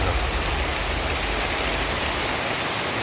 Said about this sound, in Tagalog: Wala na panahon maulan na umaga